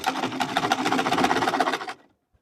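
Sewing machine running steadily for about two seconds while stitching a Queen Anne neckline on a dress with lace, loud and close, then stopping abruptly into silence.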